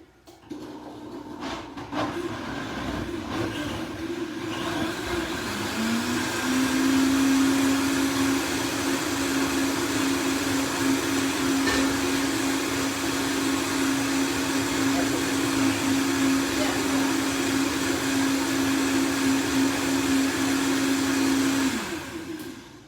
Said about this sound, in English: Start on the lowest setting if you have a variable speed blender.